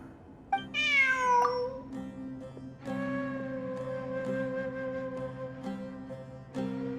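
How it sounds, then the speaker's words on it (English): A cat meows close and clear: a sharp rising cry, then a long steady drawn-out meow and a short final one, heard alone over faint background music. "Look! A cat!"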